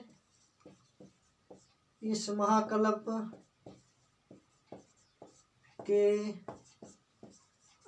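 Pen scratching out notes during a Hindi-language geology lecture, short regular strokes tapping in a steady rhythm, broken by two stretches of someone speaking.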